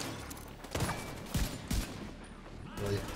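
Gunfire in the shooter game Tom Clancy's The Division 2, a few sharp shots spaced apart over a steady background bed of game ambience, with a brief burst near the end.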